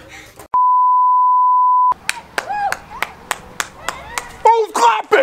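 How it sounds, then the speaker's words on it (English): After a long steady electronic beep, a person claps a series of sharp, irregular hand claps nearby, with some voices at the end. "Who's clapping?"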